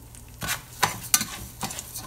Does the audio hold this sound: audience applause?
no